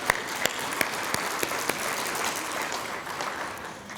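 Audience applause at a keynote speech during the 2019 All-America City Awards, a steady wash of many hands clapping at moderate volume, with a few sharper individual claps standing out near the start.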